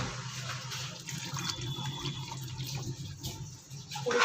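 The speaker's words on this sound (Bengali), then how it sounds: "এবার আমি যে মাটনের স্টকটা ছিল সেটা এর মধ্যে অ্যাড করে দিচ্ছি।" Mutton stock poured into a cooking pan of mutton keema ghugni with softened peas, a steady watery splashing and trickling, close and moderately loud, with no talk.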